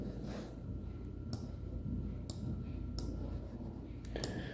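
Computer mouse clicks while changing settings in Windows 10, a few sharp, close clicks spaced about a second apart over a steady low background hum.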